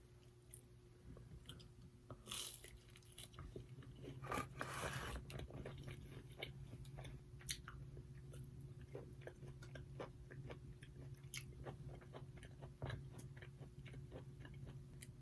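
Crunchy chewing of crispy Pizza Hut pan pizza crust with pepperoni, close and intimate bites followed by steady rhythmic mastication with crackling crust, no talking.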